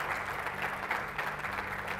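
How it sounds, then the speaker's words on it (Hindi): A live audience breaks into steady applause in honour of PM Modi, the clapping even and sustained throughout at a moderate distance, with no voices over it. "मैं चाहता हूं एक बार मोदी जी के सम्मान में तालियां बजा दी जाए"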